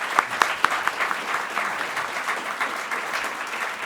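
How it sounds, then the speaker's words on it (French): A studio audience at a French television news program applauds with steady, dense clapping and a few sharp claps standing out near the start. "Un tonnerre d'applaudissements."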